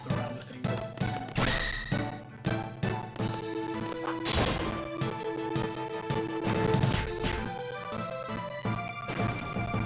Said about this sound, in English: explosions are nice.